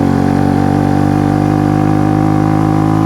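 A refreshed Honda CB125 cafe racer engine runs steadily at a low, throaty idle, loud and close, with a constant rumble and no other sounds.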